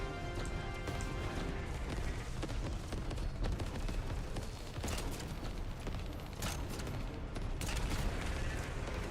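Gunfire crackles in the shooter game The First Descendant, dense rapid shots and impacts layered over a constant busy game soundscape, loud and continuous for several seconds.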